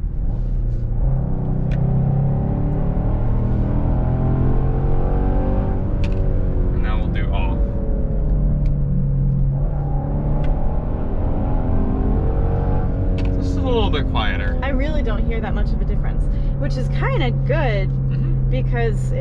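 A 2022 Genesis GV70 3.5T in sport mode with active sound enhancement gives a loud, steady engine drone that rises and falls in pitch as it accelerates, with people talking over it throughout.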